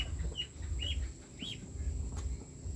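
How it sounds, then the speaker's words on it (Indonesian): Laying hens on a small home farm make a few brief, high, sharp calls spaced about half a second apart over a low, constant rumble. "ayam petelur"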